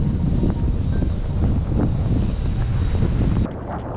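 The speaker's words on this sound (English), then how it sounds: "It's a little bit windy." Loud wind buffets the microphone in continuous low rumbling gusts on a boat at anchor, with a slight drop in intensity near the end.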